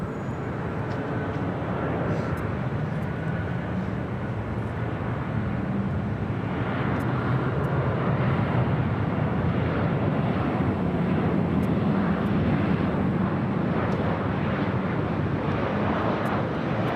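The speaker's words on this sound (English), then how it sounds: "Next arrival, Delta Airlines Flight 2766 coming in from Portland, a" A Delta Air Lines Boeing 737-800 arrives at LAX from Portland, a continuous broad jet engine roar that swells slightly midway, heard from a distance with wind noise and no speech.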